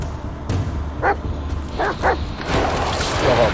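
A dog in the Blair Witch video game gives several short yipping barks and whimpers at moderate distance, in separate bursts over a low rumbling ambient background.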